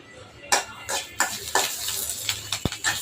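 Dry red chillies and curry leaves roasting in a pan for idli powder, with soft crackling and repeated scraping stirs at a close, steady pace.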